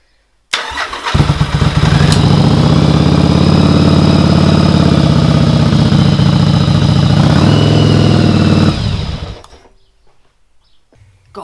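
A Yamaha XV750 motorcycle engine idles with the choke on, loud and close, bursting into a steady, even rumble that holds for several seconds before cutting off abruptly and leaving near silence.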